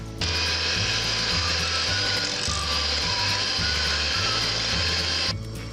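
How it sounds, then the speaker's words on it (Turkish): A steady electric mixer whirs loudly and continuously for several seconds, pulsing slightly as it whips cream with milk, then stops abruptly. "Bir su bardağı süt ile çırpıyorum."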